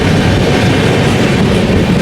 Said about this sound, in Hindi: देखो सामने मालगाड़ी जा रही है